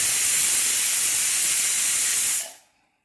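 Potatoes boiling in a pot at home, giving off a loud, steady rush of hissing steam that cuts off abruptly near the end.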